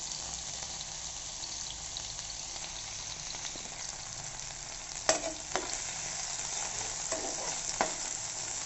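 Thin slices of brinjal (eggplant) with salt sizzle steadily in a pan, a soft continuous frying hiss broken by a few faint stirring clinks and scrapes.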